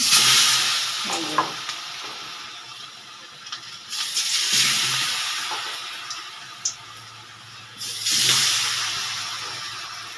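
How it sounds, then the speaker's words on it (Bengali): Battered winter vegetables dropped into hot oil, bubbling and hissing loudly in surges that swell and fade, with occasional clinks from a utensil. "প্রথমে বেটারে মাখিয়ে গরম তেলের মধ্যে দিয়ে দিচ্ছি"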